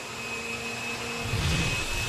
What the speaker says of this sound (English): whip that up until it looks just like a big old white fluffy cloud. Whew. That's noisy.